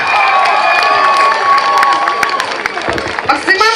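A large outdoor crowd cheers and claps loudly on a town square in Cherkasy, with shouts and a high whistling tone rising over the noise.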